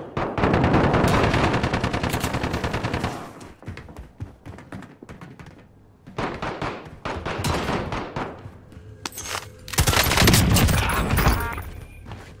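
Heavy automatic gunfire in the video game Warzone, long loud bursts of rapid shots close up, broken by brief gaps, single thuds and footsteps, then another sustained volley near the end.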